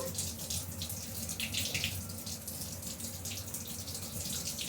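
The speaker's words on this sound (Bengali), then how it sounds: "কলটা বন্ধ করে নাহলে তো জল চলে গেল সব" Water runs steadily from a household tap, a continuous splashing hiss into a basin that stays close and fairly even throughout, with no voices.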